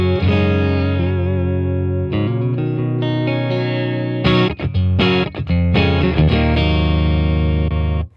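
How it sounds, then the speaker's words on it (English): An electric guitar through a Boss Katana-50 MkII EX amp on its clean amp type, no reverb, plays chords and single notes with a clean, dry tone, sustained and loud, with brief choppy strums near the end. "So this is the clean amp type, variation 1. No reverb,"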